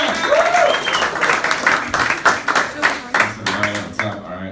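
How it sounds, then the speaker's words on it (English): A comedy club audience in New York claps and applauds steadily for an incoming comic, a dense crowd sound that thins out toward the end. "Make some noise for Danny Palmer, everybody."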